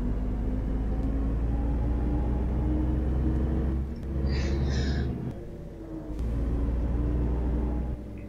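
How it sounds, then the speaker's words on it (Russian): Traffic bus engine passing in the OMSI 2 bus simulator, a loud steady low rumble of the player's bus with a swell and dip as the other vehicle goes by, plus a brief hiss midway. "Вот только что трафиковый автобус проехал."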